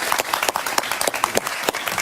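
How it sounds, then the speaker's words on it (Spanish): A television studio audience claps for an arriving guest on a Peruvian talk show, dense close applause with sharp individual hand claps standing out over two seconds. "Un aplauso para él, por favor"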